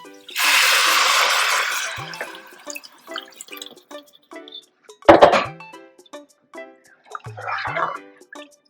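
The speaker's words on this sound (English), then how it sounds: "I'm gonna add the 4 cups of water here" Four cups of water poured into a pot of lentils, a loud splashing rush at first, then scattered drips and clinks of a cup against the pot, and a second shorter splash.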